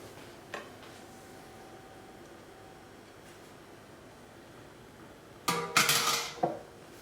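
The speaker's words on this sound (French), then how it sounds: "On va incorporer ce mélange à la mascarpone." A few sharp clinks and scrapes of a utensil against a bowl as whipped cream is folded into mascarpone for a tiramisu yule log, coming in a short cluster near the end after a long quiet stretch.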